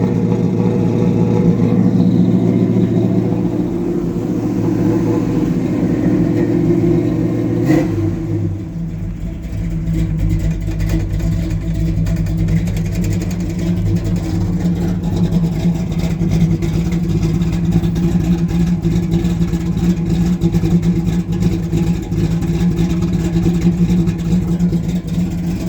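A big block Chevy engine idles with a raspy, lumpy rumble from its cam, loud and close, staying steady for a long stretch with small changes in pitch.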